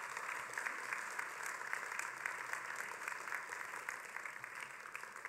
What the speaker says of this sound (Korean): 여러분들 큰 박수로 환영해 주시기를 바랍니다